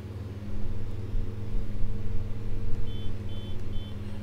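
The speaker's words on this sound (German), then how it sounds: "Hupe schwach." A weak tractor horn in the Farming Simulator 19 video game gives three short, thin honks in quick succession. They sound over the steady low drone of the tractor engine.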